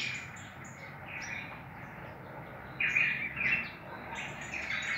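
Young pica hueso fledgling, caught three weeks earlier, chirping close by: repeated high, thin tweets and short calls, some louder bursts, over steady background noise.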